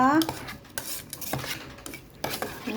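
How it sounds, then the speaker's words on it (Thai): A spoon stirs spicy Thai dipping sauce ingredients in a small bowl, clinking and scraping against the sides in a steady, close rhythm. "แล้วก็คนทุกอย่างให้เข้ากันนะคะ"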